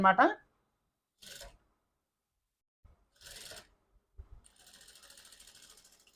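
A sewing machine stitching a blouse sleeve joint, a brief run of fast, even mechanical ticking near the end, preceded by a short voice and scattered handling sounds over near silence.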